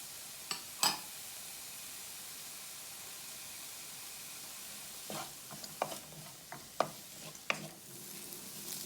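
Bacon and carrot frying in a pan, a soft continuous sizzle with occasional spatula scrapes and taps as the pieces are stirred, quiet and close.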